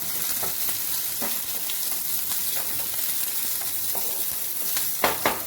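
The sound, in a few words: shrimp frying with chillies in a pan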